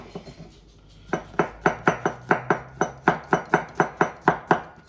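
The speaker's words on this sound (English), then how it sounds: "So to cut the garlic" A knife chops garlic into thin slices on a cutting board, with a few soft taps followed by a fast, even run of about fourteen crisp, close knocks.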